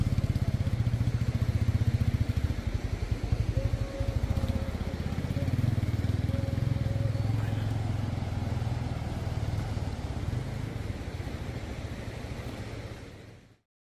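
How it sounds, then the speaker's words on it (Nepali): A motorbike crosses the Dudhkoshi river on the Everest Base Camp trail, its engine chugging in an uneven, rough rhythm close by, blended with rushing water and clatter before the sound cuts off abruptly. "पहिलोपटक हामी दुधकोशी खोला तर्दैछौँ, त्यो पनि बाइकबाट"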